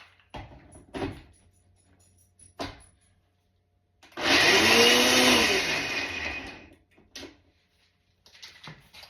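A kitchen blender pulses to chop cranberries for a cranberry loaf, a loud grinding whir lasting about two seconds, set between brief clunks and quiet handling sounds.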